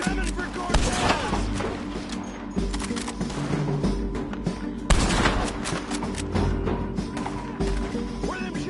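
Bursts of gunfire rattle across a hillside firefight, with repeated volleys and machine-gun-like fusillades, some loud and close, others echoing farther off, under shouting voices.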